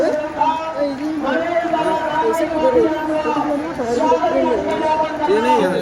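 A large, dense crowd at Manoj Jarange Patil's rally in Beed, a steady, loud hubbub of overlapping voices and chatter that holds throughout without pause.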